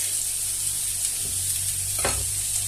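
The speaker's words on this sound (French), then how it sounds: "on va faire revenir nos oignons pendant une quinzaine de minutes" Onions sautéing in a pan hiss with a steady, constant sizzle, with one or two faint utensil scrapes against the pan.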